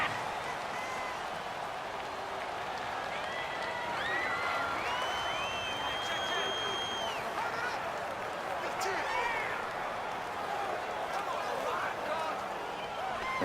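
Stadium crowd noise from the Madden 19 football video game, with a home crowd roaring to disrupt the offensive line's snap count, a steady murmuring roar with rising cheers under commentary talk.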